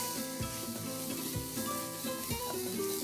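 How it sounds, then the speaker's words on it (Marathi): Chicken Manchow soup ingredients with black pepper, red chili sauce, soy sauce and vinegar sauté in a hot pan, a continuous close sizzle broken by a few scraping stirs, with no voices. "पुन्हा एकदा सगळं आपण हे सॉते करून घेऊया."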